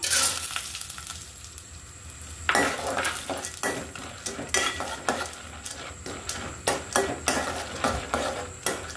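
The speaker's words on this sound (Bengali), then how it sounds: "ঘিতে আমি বাদাম আর কিশমিশগুলো ভেজে নিব" Almonds and raisins frying in ghee in a pan for sweet vermicelli, a soft sizzle under repeated clinks and scrapes of a spoon against the pan, close and uneven in rhythm.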